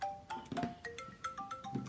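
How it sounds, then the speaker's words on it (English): A phone ringtone plays a bright, quick melodic sequence of short electronic tones, fairly faint and alone, for about two seconds. "Get a phone call."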